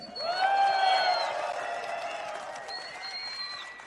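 Crowd cheering and applauding at a fight press conference in Vienna, Austria, a sustained wash of claps with whoops and shouts rising early and then holding steady.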